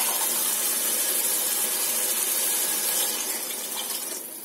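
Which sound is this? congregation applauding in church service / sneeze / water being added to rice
water being added to rice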